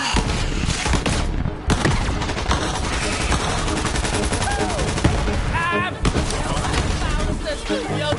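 Heavy gunfire from a PS4 video game, dense rapid volleys of shots running nearly continuously at close range, with game effects and a voice talking over parts of it.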